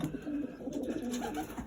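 Pigeons coo steadily in the breeding section of an old-bird loft, a layered chorus of low, rolling calls close by with no talking.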